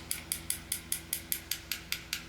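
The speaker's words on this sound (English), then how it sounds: "right onto my card by tapping with my scissors" Metal scissors tapped against a fan brush loaded with paint to splatter it onto a card, giving about a dozen light, crisp ticks at an even quick rhythm, faint and close, with no talk.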